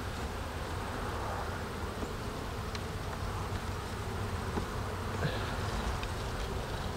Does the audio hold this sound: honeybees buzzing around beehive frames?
yes